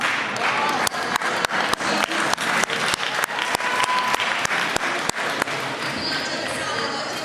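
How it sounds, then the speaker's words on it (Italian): At a powerlifting championship, a crowd applauds with loud, rhythmic unison claps at an even beat, softening into looser clapping near the end. "Applausi comunque meritatissimi per questo ragazzo"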